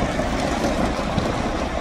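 A truck hauling a Kirovets K-700 tractor on a low-bed trailer pulls away. Its steady, loud, low engine rumble fills the short stretch without pauses and without any voices.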